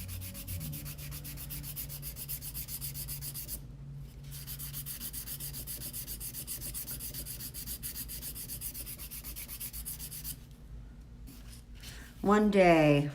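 A file works over a sculpted nail being shaped into a Russian almond form, giving close, steady rasping strokes that run almost continuously with a short pause, then a voice briefly at the end.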